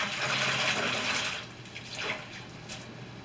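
A quick rinse under a running tap in a kitchen while baking spiced trout: a steady hiss of flowing water for about a second and a half, then a softer trickle as it tapers off.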